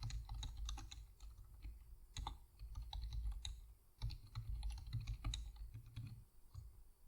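Rapid, uneven clatter of a computer keyboard as code is typed, close and fairly quiet, with short bursts of keystrokes separated by brief pauses and no talking.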